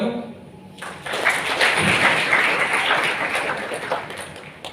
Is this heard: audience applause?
yes